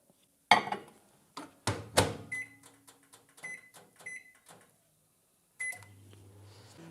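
Microwave oven used to melt soap-making ingredients, with a sharp door click and clunks followed by a series of short, fairly close beeps and then a low steady hum as it starts running.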